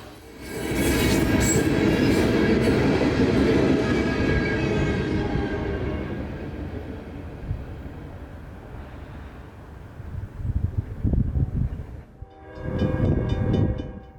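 A CSX freight train on the W&A line rumbles past loudly at night, its roar slowly fading, followed by clanking and rattling cars and a brief squeal near the end.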